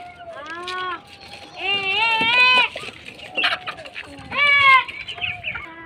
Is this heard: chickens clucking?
yes